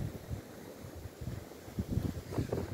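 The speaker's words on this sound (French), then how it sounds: "Et comme il y a énormément de vent" Strong wind buffets outdoors around a camper van fitted with a wood stove, a low, gusty rumble with uneven surges, fairly faint and steady throughout.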